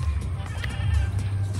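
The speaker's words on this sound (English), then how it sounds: "Good morning, little goats. Pretty, pretty goats." Goats bleating in the morning on a farm, a short nasal call rising over a steady low rumble of outdoor background noise.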